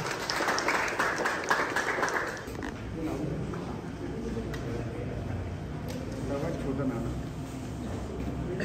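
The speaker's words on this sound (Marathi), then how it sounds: "सर्वांनी त्यांचं टाळ्या वाजवून त्यांना स्वागत करायचं" An audience at a Shivaji-era exhibition event claps to welcome a guest in a dense burst of applause that lasts about two seconds. A voice then talks over a low crowd murmur.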